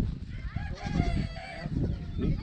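Andalusian chickens clucking and calling at an exotic bird and animal swap, several overlapping bird voices close by over a steady crowd murmur, with a brief crowing-like call.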